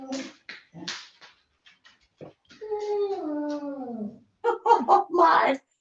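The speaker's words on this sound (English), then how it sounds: "Oh my, listen to them. I swear dogs are worse than babies sometimes." Dogs howl and whimper in long, wavering, rising-and-falling wails with short yips, mixed with nearby talking, in a room where embroidery work is going on.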